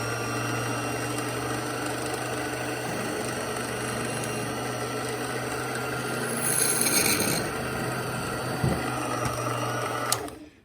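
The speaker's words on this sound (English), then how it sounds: "And this is the number 57 drill bit. It's going to take out 1/1000th of an inch." A steady, high-pitched whirring of a small number 57 drill bit enlarging the hole in a Bachmann HO Shay model locomotive gear, with a faint scraping as the bit works, then stopping abruptly near the end.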